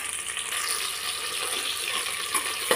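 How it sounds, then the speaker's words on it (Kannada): Green chillies and garlic fry in a pan with a steady, hissing sizzle that stays fairly even throughout, with a couple of small pops near the end and no talking. "ಇದೊಂದು ಸ್ವಲ್ಪ ಫ್ರೈ ಆಗಲಿ"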